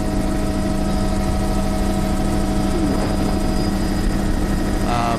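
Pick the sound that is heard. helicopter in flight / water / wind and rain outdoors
helicopter in flight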